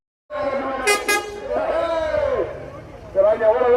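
A bus horn at a street protest blares in several loud, close honks, short blasts and then a longer held tone, with crowd voices and talk around it.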